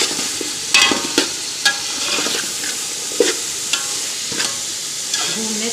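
Potatoes frying in a pan for matar pulao give a close, continuous sizzle punctuated by regular clinks and scrapes from a stirring spoon.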